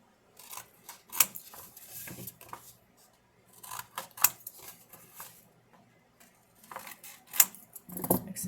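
Scissors snipping through paper while a paper gift bag is made, giving sparse crisp cuts in small clusters, close and fairly quiet against a near-silent room.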